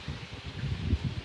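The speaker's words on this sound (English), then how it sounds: "it's a very windy day" Strong wind on a stormy day rustles leaves in a steady low roar, with soft gusting swells and no voices.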